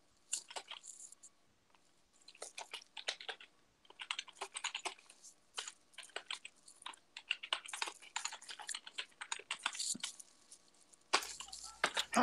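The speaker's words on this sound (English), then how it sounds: "Oh, decent typing speed there, Sean." Quick bursts of keystrokes clatter on a computer keyboard, fast and uneven with short pauses, soft and close in an otherwise quiet space.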